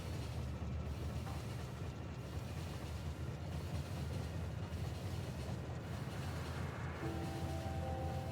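Train riding along rails in the video game Factorio, a steady continuous rumble with a low mechanical drone throughout, a brief tonal hum appearing near the end.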